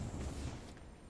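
A grenade blast in a video game, heard as a low, rumbling boom that fades steadily over about a second, with no speech.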